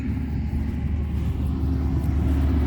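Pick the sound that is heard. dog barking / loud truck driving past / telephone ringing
loud truck driving past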